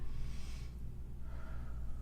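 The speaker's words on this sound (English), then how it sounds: "I want you to take a deep breath when you round your back" A pregnant woman takes a deep breath in while rounding her back in a modified yoga pose, heard as a close, breathy inhale with soft airy hiss and no talking.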